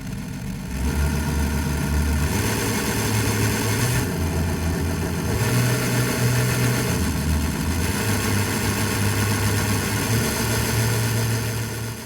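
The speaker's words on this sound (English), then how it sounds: "With granular synthesis, you can now get a steady engine RPM out of this recording." A recorded engine, stretched by granular synthesis into a steady sustained RPM, drones continuously with a low stepped hum and a rough mechanical texture, close and loud throughout with no talk.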